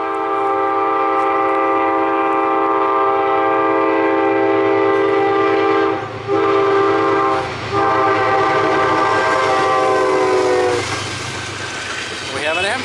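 An Amtrak train passes through Fairport, New York at night, sounding a loud, sustained multi-tone horn in several long blasts over the close rumble of the wheels on the rails.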